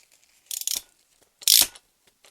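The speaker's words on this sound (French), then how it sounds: "je remets cet écrou en 17" A hand ratchet tightens a 17 mm nut on a BMW E30 power steering rack, giving three short bursts of clicking separated by quiet pauses, close and crisp.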